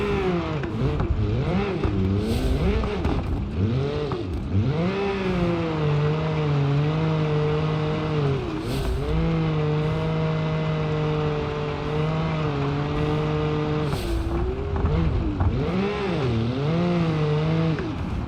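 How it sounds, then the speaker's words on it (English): A car with a CVT drifts in BeamNG.drive on a West Coast USA time trial, its engine holding long, steady, droning revs that sweep up and down over a continuous drift, close and loud. "it's not the easiest to drift with a CVT"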